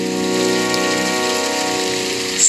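Steady rain falls on a surface during a rainy-day competition, a dense even hiss with a faint tonal hum beneath it and no voices.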